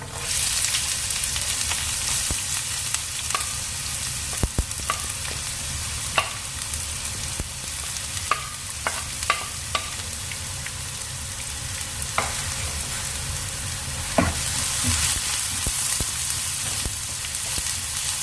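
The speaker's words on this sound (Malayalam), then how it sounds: "നമുക്ക് ആ സവാള കൊത്തി അരിഞ്ഞത് ചേർത്ത് കൊടുക്കാം" Chopped onion added to clam meat sizzles and fries steadily in a pan, a dense continuous crackle with occasional sharper pops and spatula scrapes, close and alone.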